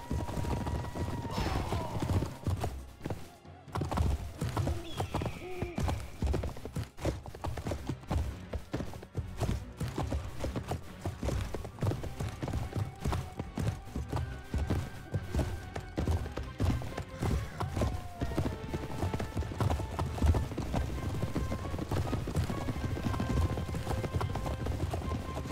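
Horses gallop in a continuous drumming of hooves as cavalry riders charge down orcs in the Warcraft: Total War strategy game. The sound is a dense, sustained rumble mixed with battle noise, and it runs loud and unbroken throughout.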